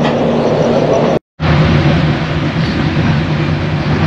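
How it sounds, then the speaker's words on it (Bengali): A train pulling out of Bandel station at night, a loud steady rumble with a low engine hum throughout, briefly cut out by a short gap. "আর ব্যান্ডেল স্টেশন থেকে এখন ট্রেন বেরোলো"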